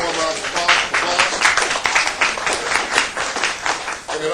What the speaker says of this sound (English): give all the participants, the panelists, the organizers, a warm round of applause